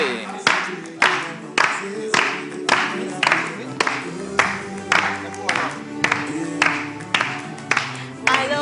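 Rhythmic group clapping in time with a playing melody as the mother arrives at a celebration, sharp regular beats about twice per second over music.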